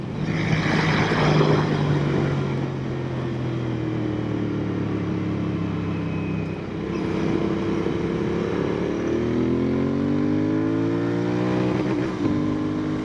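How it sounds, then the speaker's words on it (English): A Royal Enfield Continental GT 650 engine drones loudly on an open road. The revs rise and bounce against the rev limiter, with wind noise throughout. "That is a rev limiter."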